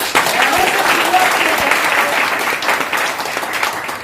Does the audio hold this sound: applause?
yes